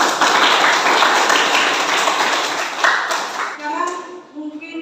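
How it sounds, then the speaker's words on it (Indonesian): A classroom group claps together for a few seconds, loud and dense, then tapers off as a voice begins talking. "Oke, tepuk tangan dulu."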